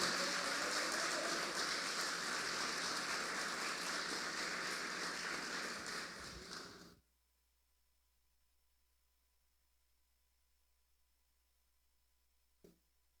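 A church congregation claps together, a loud, dense wash of steady applause filling the hall for about seven seconds before stopping abruptly, followed by near silence and one faint knock.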